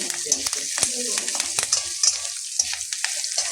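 Garlic and green chilies fry loudly in a hot pan, a bright continuous sizzle broken by repeated stirring scrapes and clicks of a spatula, with faint low murmurs underneath.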